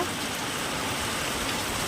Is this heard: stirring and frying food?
no